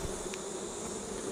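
Honey bees buzz in a steady, dense drone as they are shaken off a brood frame from a flow hive, a continuous close hum with no voices.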